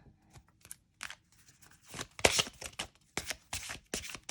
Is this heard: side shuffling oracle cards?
yes